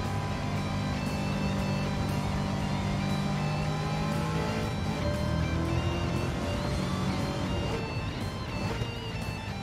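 Corvette racing around Watkins Glen in Gran Turismo 7, a steady loud engine drone with shifting revs and gear changes, continuous across the whole stretch with no speech.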